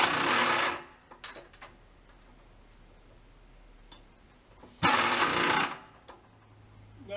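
Power draw bar on a milling machine, running with its cover on, gives two loud bursts of buzzing mechanical whir about a second long, separated by quiet stretches with faint clicks and taps.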